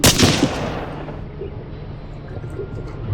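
A single sharp sniper rifle shot in the video game Hidden & Dangerous Deluxe cracks loudly at the start, then a long rumbling echo fades away, with no talking.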